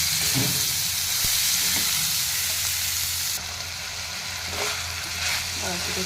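Chopped ivy gourd (tondli) stir-fries in a pan, a steady loud sizzle with spatula scrapes and stirring knocks, the hiss dipping briefly midway before resuming.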